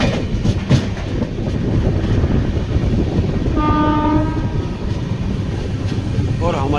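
Train 22472 pulling into Ratangarh station on the Bikaner line, heard from on board as a loud continuous rumble with wheel clatter and a horn blast near the middle.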